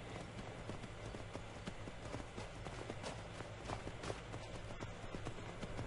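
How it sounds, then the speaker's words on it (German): Rhythmic hoofbeats of a galloping horse in the video game Skyrim, continuous and steady, set against a constant wash of background noise. "Wir reiten munter durch die Gegend."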